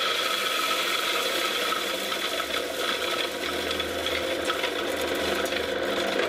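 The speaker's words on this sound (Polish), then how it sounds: "Włączmy maszynę. Zobaczymy, czy to coś zmieli." Chinese electric grain crusher mill running loudly and steadily up close, with a dense grinding, rattling mechanical whir and no speech.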